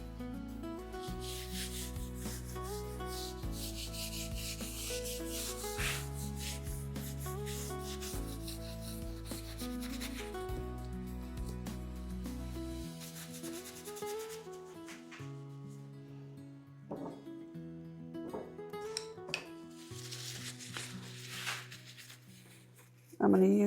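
Sanding pad rubs steadily across a mirror frame to degloss its finish, a continuous close scratchy hiss over soft background music.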